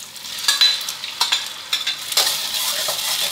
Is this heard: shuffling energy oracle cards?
no